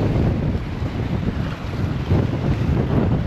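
Strong wind roars and gusts against the microphone at Bato Lake, rumbling unevenly, with water sloshing beneath it and no voices.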